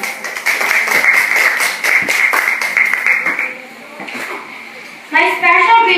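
Classroom students clap for a speaker at a class debate, a quick run of claps that fades after a few seconds, followed by a voice speaking near the end.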